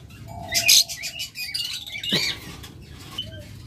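Green opaline budgerigars chirping and chattering in short bursts, with a rising squeak midway, close and fairly lively with no talking.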